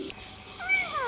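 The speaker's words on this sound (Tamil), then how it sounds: "லில்லியும் பூனைக்குட்டியும் சந்தித்த தருணம" A kitten gives one short, rising-then-falling meow, close and clear, indoors at home.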